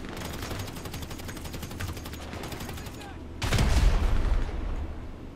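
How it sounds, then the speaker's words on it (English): A deep, booming grenade blast bursts out amid continuous rattling gunfire in GTA 5 Online, loud and close, with the low rumble lingering briefly afterward. "Grenade."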